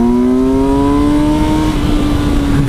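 Kawasaki Versys 1000 SE GT motorcycle at full throttle, engine note climbing steadily under strong acceleration with heavy wind rush, loud and sustained with no talk.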